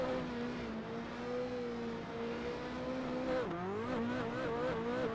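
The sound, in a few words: race car engine and tire slide in Assetto Corsa video game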